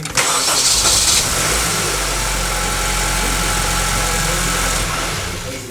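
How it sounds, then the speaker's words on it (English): A 2.0L Acura ILX engine cranks and catches right after a starter replacement, a brief starter whir followed by a steady, loud idle that holds close for several seconds before easing slightly. "Now I'm going to try to start this thing up and see if it runs."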